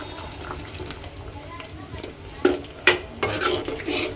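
Spoon stirring tomato gravy (gojju) with garam masala and chilli powder in a pan, soft scraping throughout with a few sharp metallic clinks of spoon against the pot, close by.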